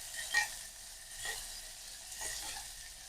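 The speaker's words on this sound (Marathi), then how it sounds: "काजू बदाम वगैरे घालून घेणार आहे, भाजून घ्यायचे आपल्याला।" Cashews, almonds and raisins roast in ghee with a soft, faint sizzle, broken by three gentle stirring scrapes spaced about a second apart.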